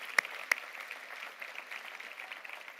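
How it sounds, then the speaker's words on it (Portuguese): A church congregation applauds first-time visitors, faint and distant steady clapping with two sharper claps near the start. "Vamos aplaudir os nossos irmãos pela primeira vez, nossas irmãs."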